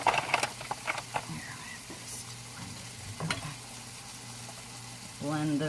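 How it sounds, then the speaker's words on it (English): A spoon stirs protein pancake batter in a bowl, with quick clinks and wet scraping strokes early on, a low steady hum beneath, and a voice starting to speak near the end. "And we're going to blend that up. With a spoon, preferably."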